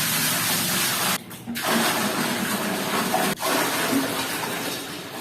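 Water pours steadily into an alligator gar tank after cleaning, a continuous rushing, splashing flow with two brief dips where the stream is interrupted.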